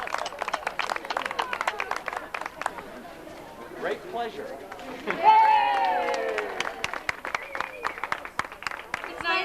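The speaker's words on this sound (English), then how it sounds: "Raise your hands and take a round of applause." Crowd applause at a ribbon cutting for an arts center, scattered clapping at first, then a fuller swell of clapping and cheering, mixed with excited voices and chatter throughout.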